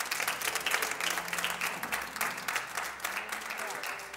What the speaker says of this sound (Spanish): un aplauso grande venga